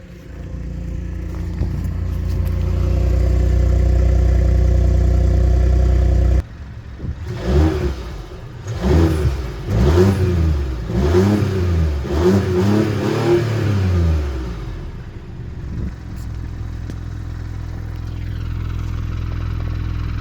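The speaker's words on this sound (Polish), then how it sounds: "pod obciążeniem naprawdę dobrze brzmi ten silnik, tak basowo. Zresztą wydech też" A BMW 220 Gran Coupe with a 1.5-litre three-cylinder engine revs under load, its bassy exhaust rising and falling in repeated surges after a steady drone, then settling back to a low hum.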